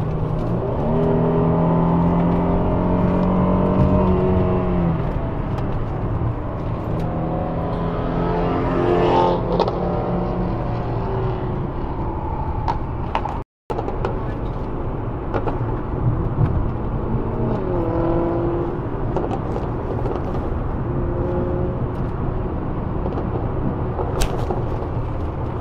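A Ford Mustang and a Mercedes C63 overtake on a canyon road: loud, continuous engine drone with rising and falling revs and gear-shift swells, heard steadily throughout with no talking.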